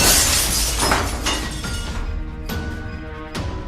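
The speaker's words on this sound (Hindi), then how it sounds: "जेफ ने एक ईंट उठा करके खिड़की पर मार दी, जिससे खिड़की टूट गई" Window glass shatters after a thrown brick strikes it in a horror game, a loud crash with spraying shards followed by scattered tinkling pieces falling over the next few seconds.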